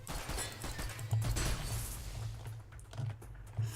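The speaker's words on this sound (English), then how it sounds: "You just keep shooting at my turret, that's cool." Enemies in SYNTHETIK shoot at a turret, a rapid stream of sharp gunshot pops and impacts over a low electronic hum, with brief louder bursts, fairly close and busy.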